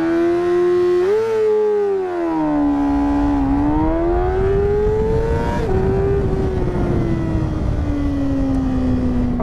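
A 600 sportbike engine revs hard and climbs in pitch as it launches from a standstill, loud and close, easing and rising again through gear changes before settling into a steady high drone.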